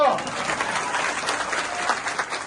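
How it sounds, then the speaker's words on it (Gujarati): A crowd at a Visavadar election campaign rally in Bhesan breaks into steady, dense applause that holds throughout, with a voice talking over it. "જેવો માણસ એવી તો તાળીઓ પાડો"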